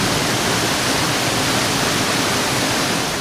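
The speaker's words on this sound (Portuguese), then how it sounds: "a água começa a jorrar pelas janelas de um prédio de 3 andares" Floodwater gushes out of the windows of a three-storey building in Varazze, Italy, during a 2010 sea storm, a loud, unbroken rushing roar like a waterfall.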